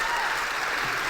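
An audience at a tech conference claps steadily and densely for a brief moment, with no voices over it.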